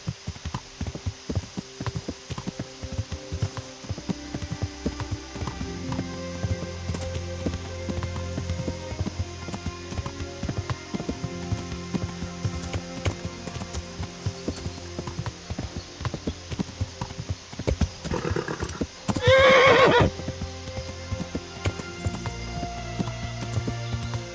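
Horse hooves clip-clopping steadily in the medieval game Kingdom Come: Deliverance, a continuous trotting rhythm over a dense ambient game soundscape, with a brief louder burst near the end and no talk.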